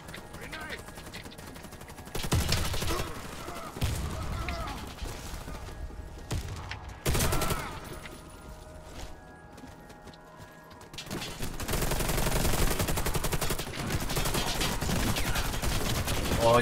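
Gunfire in the Warface shooter game, with bursts of rapid automatic fire and scattered shots separated by quieter stretches, all fairly loud and close.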